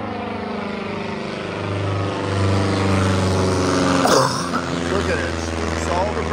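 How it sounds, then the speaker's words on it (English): A propeller airplane drones overhead at a swamp during a gator call, its steady hum rising and lingering across the clip. "There's more coming in, but this plane keeps spooking them."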